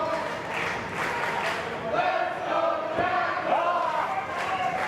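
A wrestling crowd in Hialeah cheers for the CCW Southeastern champion during a match, a continuous roar with shouts and whistles rising and falling, under a commentator's voice.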